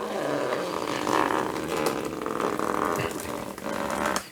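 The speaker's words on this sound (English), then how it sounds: "Even the paper is making a lot of noise." Paper peeled slowly off a Gelli printing plate gives a loud, close, continuous tearing crackle with gritty rasping swells, running for several seconds and ending abruptly.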